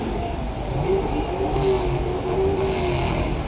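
An ice cream truck pulls away along a coastal street below a balcony, its engine a steady mid-pitched drone with a faint tonal whine drifting through, moderately loud and continuous with no talk.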